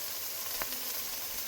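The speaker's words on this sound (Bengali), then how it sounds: "এটা কিছুক্ষণ ভেজে নেব, কাঁচা গন্ধটা চলে যাবে।" Ground spices fry in a pan for a vegetarian yogurt pointed-gourd curry, making a continuous quiet sizzle and hiss, with one brief sharper tap partway through.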